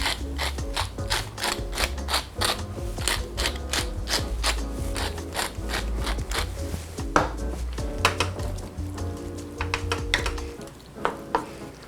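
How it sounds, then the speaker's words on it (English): A pepper grinder cracking black pepper over a turkey pot pie filling, rapid clicking ratchet-like grinding in quick repeated bursts, close and loud, with a faint sizzle underneath and no talking. "I'm gonna add a little fresh cracked black pepper."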